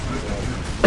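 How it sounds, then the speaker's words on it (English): A single short cough, loud and close, bursts out at the very end after a stretch of quiet room tone. "Sorry for the cough."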